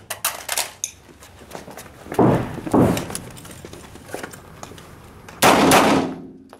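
A timed shooting drill with rifles and handguns, the rifles including the SIG Manurhin 540 and SIG 510 / Stgw 57, gives a few loud, sharp, reverberant bursts spaced out over several seconds, with no talking.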